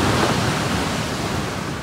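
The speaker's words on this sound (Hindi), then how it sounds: "जबरदस्त आवाज आ रही है ना, मुझे पानी की आवाज से बहुत डर लगता है." Loud sea waves crash continuously at Madhavpur beach, a dense roaring wash of surf close by that fills the whole stretch with no talk over it.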